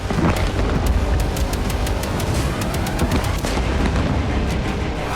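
An explosion from a Ukrainian drone attack on a Russian military training ground, a heavy booming roar with rumbling, crackling aftershocks that persist at high loudness throughout.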